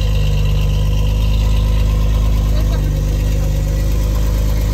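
A BMW 316 car engine idles at close range, holding a steady, loud, even rumble with a faint vibrating tremor and no voices throughout.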